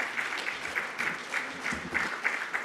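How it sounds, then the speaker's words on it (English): Continuous applause from a forum audience at a Namibian public-private business event, moderately loud with rhythmic clapping pulses as people walk to the stage. "We can keep the round of applause coming as they are making their way to the stage"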